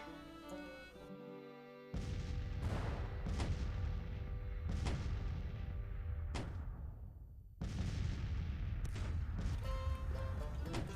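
Civil War artillery batteries firing at will in Grand Tactician: The Civil War, a string of loud booming cannon shots at irregular intervals, each with a rumbling decay, some overlapping, no speech.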